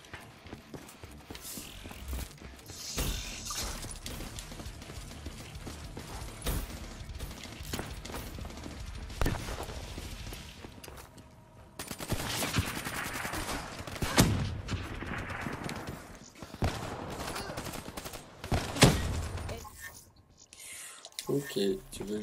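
Rapid bursts of gunfire fill a team deathmatch round of the video game Black Ops 3 on the mansion map, dense and continuous at close range, with someone speaking French over the shooting and in-game voice callouts.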